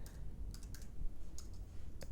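Typing on a computer keyboard, a quiet cluster of a few close, sharp key clicks at uneven intervals over a low background hum.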